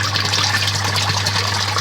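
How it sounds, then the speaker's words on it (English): Water drains out of an aquaponics grow bed at a primary school, a steady close rushing gurgle of flowing liquid over a constant low electrical hum. "So that's the water now draining out of the bed."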